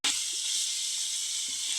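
Spices and turmeric frying in a pan for junka gravy, a bright, constant hiss of hot oil that starts abruptly and stays loud and even throughout, close up.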